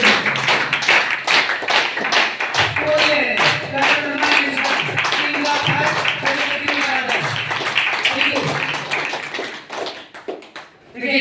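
An audience at a DXN business meeting in Badlapur claps loudly in a fast, rhythmic burst for about ten seconds, with voices mixed in before the clapping fades near the end.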